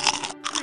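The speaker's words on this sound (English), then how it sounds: "The crunching sound was not from the monster." Potato chips crunch in a cartoon in two crisp, loud bursts of biting and munching, separated by a brief pause, with no voices.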